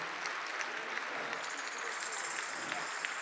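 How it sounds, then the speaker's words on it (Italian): Steady, dense applause from a large audience at a tarantella concert, continuous clapping throughout with no pauses, heard from within the crowd. "fate un grande applauso ragazzi."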